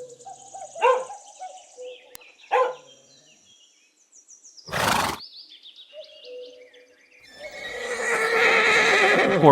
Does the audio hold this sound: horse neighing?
yes